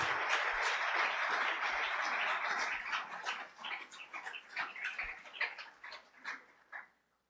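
A church congregation claps in praise, starting as a thick, continuous burst of applause that thins into scattered, uneven claps before fading out, with no voices.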